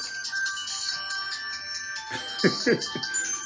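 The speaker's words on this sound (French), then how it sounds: "le son de ton téléphone sort encore?" A phone ringtone plays in a recorded call as a steady electronic tone pattern for about two seconds, then fades under voices talking.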